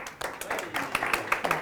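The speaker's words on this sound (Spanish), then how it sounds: "un aplauso por favor" An audience gives brief, scattered clapping that builds for a moment at a university talk, with some talk mixed in.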